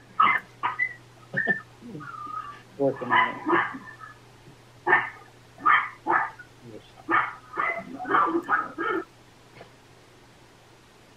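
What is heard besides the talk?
dog barking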